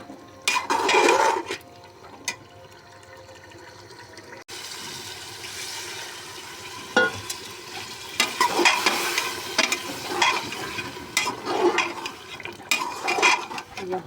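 Beef and potatoes for aloo gosht frying in a pot, a steady sizzle with repeated scraping and clattering as they are stirred, close and continuous with no talking.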